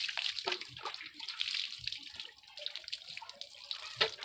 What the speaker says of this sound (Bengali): এবার মাথায় দেবো, দেখো কত কালারফুল জল বেরোচ্ছে দেখতে পাচ্ছ তোমরা